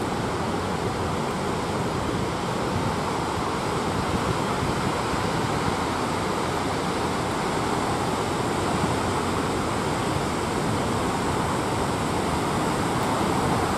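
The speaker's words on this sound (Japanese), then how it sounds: "この辺に来たらもう水しぶき来ますね。" Dam release at Iwaonai Dam, with water spray and strong wind: a steady, loud roar of falling, crashing water filling the whole span without a break, with no voices.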